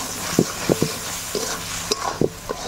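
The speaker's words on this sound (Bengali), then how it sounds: "কেটে রাখা টমেটো, দেবো হলুদ গুঁড়ো, লঙ্কার গুঁড়ো, দেবো পরিমাণ মতো লবণ। এবার ভালো করে কষিয়ে নেব।" Chopped tomato with turmeric, chilli powder and salt sautéing in a pan, a soft steady sizzle broken by several sharp stirring scrapes and taps at an irregular pace, close by with no talk.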